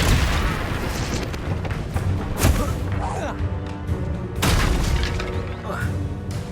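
Confringo blasting curses explode in the video game Hogwarts Legacy: two heavy booming blasts with crackling debris, loud and close, over a lower rumble of game sound while a voice calls out spell names.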